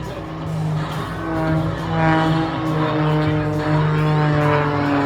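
Steady, loud engine drone from an MXS all-carbon-fiber aerobatic plane with a Lycoming engine of close to 400 horsepower, flying at an airshow, with strong harmonic tones that rise and fall slightly as it maneuvers.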